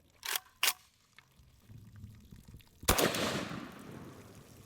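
An AK-47 rifle fires black powder rounds outdoors: two sharp cracks close together, then a louder shot that trails off into a rumbling echo.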